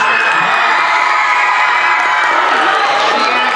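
A school talent show audience cheers and claps loudly, with children shouting and whooping in a dense, sustained roar that fills the room.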